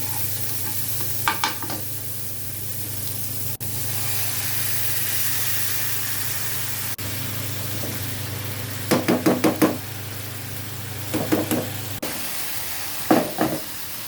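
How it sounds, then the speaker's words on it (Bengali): Eggs being cooked down as egg bhuna in a frying pan give a steady low sizzle, broken by bursts of quick spatula knocks and scrapes against the pan, close and fairly loud, with no talk. "একটু ডিম ভুনা করে নিচ্ছি"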